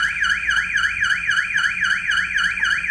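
Vehicle alarm system siren, a loud sweeping electronic wail rising and falling in steady rapid cycles, roughly three sweeps per second, close and continuous with no voices.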